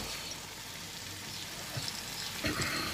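Lamb pieces frying in a pan of spiced masala for a Pathani namkeen gosht curry, a steady close sizzle throughout that swells into a louder crackling burst near the end.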